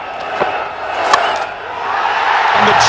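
Crowd cheering and shouting at an indoor cricket match, a loud sustained roar of voices with a few sharp spikes, swelling toward the end.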